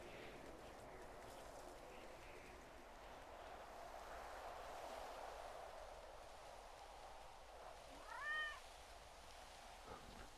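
A cat in the video game GTA V gives a single short meow near the end, faint against a steady low ambient hiss.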